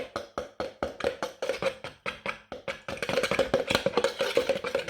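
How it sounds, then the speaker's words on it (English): Wet gingerbread pancake ingredients being mixed in a large measuring jug, a whisk or spoon clinking rapidly and steadily against the sides, close and fairly loud, with the strokes quickening toward the end. "Now I'm just going to mix up my wet ingredients in here."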